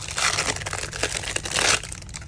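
Plastic packaging for resin jewelry supplies crinkles and crackles as it is torn open by hand, a brief loud burst of crumpling up close.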